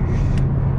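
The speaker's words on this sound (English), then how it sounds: "I just love the sound of this car" A Mercedes A180 engine drones steadily with low rumble while driving, heard from inside the cabin, with road noise and a brief swishing sound partway through.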